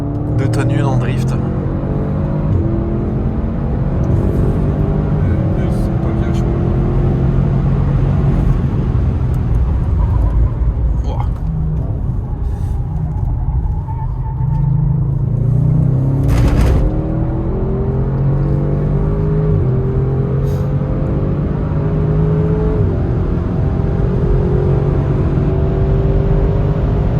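Race car engine on a warm-up lap at a V6 racing event, a steady loud droning roar with shifting pitch and a brief rise mid-way, while someone speaks French over it throughout.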